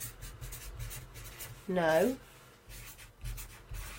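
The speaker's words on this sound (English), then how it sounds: "if I do my drawing, oops, red pen today." A red pen scratches across paper in one short, close stroke, with a speaker's voice briefly heard around it.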